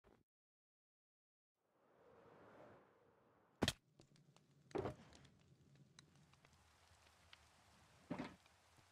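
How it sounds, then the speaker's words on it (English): Rain in a video game begins as a soft patter after a silent start and swells into a steady hiss, broken by a few sharp knocks and clicks, with no talk over it. "Rain."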